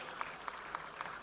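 Ceremony audience applauding a guest at a media anniversary event, faint distant clapping with a few soft, evenly spaced hand claps rising above a quiet crowd wash.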